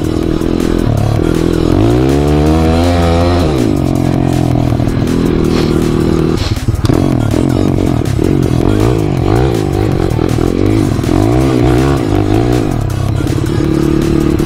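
A Jawa motorcycle with a KTM engine revs and putters loudly up close while drifting on slippery fresh snow, rising and falling in pitch, with clattering and scraping underneath.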